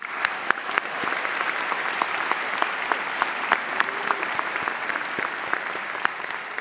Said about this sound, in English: Please join me in a round of applause thanking the staff, the faculty, and our alumni of this great school.